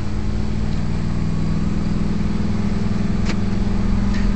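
A 2011 Ford F350 with the 6.2-liter engine pulling uphill: a steady, even engine drone heard from inside the cab at a constant level, with a couple of faint clicks and no talking.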